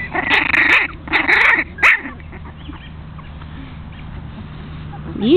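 A Jack Russell puppy gives a few short, high yips and barks in the first two seconds, close by, followed by quieter rustling and faint whimpers with a low hum underneath.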